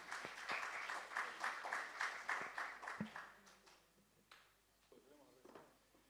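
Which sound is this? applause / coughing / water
applause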